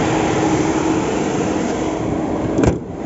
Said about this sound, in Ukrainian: Гудіт вентилятор включив кліматичну установку.